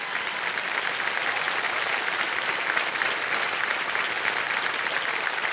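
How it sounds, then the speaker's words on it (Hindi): A studio audience on the game show Kaun Banega Crorepati applauds steadily and loudly, a dense, even wash of clapping that holds without pause for several seconds with no voices over it. "तालियां बजते रहे पवित्रा जी के लिए।"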